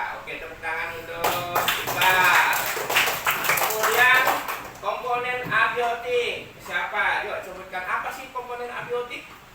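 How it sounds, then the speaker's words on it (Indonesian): Classroom of fifth-grade primary pupils clapping for a student, a burst of hand claps rising and fading over several seconds, mixed with children's voices talking throughout. "Oke, tepuk tangan untuk Iqbal."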